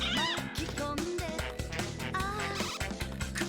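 A cat meows repeatedly in the video game Katamari Damacy REROLL, a string of bright, rising cartoon meows over busy game music and sound effects.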